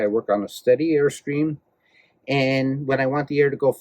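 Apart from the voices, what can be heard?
No everyday noise stands out behind the speech.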